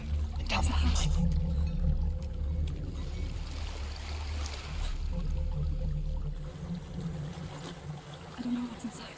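A waterfall in the video game Hellblade: Senua's Sacrifice gives a continuous rushing, splashing wash that swells and fades, heard beneath voices speaking over it.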